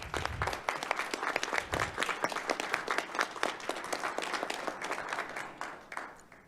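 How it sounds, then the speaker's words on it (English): Audience applause at a community college board of trustees meeting greets a new vice president appointment: steady, dense clapping from a room full of people, lasting several seconds at moderate volume with no talk over it. "Can we give Robert a round of applause"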